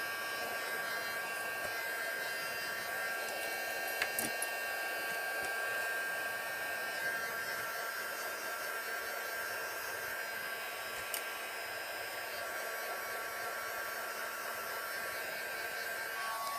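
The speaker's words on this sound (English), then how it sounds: "heat gun, my trusty dandy handy heat gun, and I'll just dry it up a little bit" A heat gun drying glue on a page runs as a continuous, steady blowing roar for the whole stretch, close and unbroken, with no voices.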